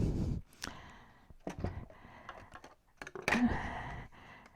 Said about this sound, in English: We're going to cut our daisy panel, and since I did not want to bring in my large die cutting machine on my desk, I'm using the smaller one